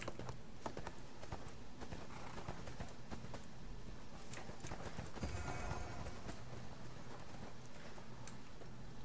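Steady clip-clop of horse hooves trotting in a quick, even rhythm over a dense bed of ambience and effects in the video game ArcheAge.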